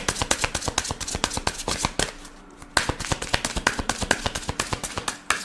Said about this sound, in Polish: Dobra, koniec tasowania.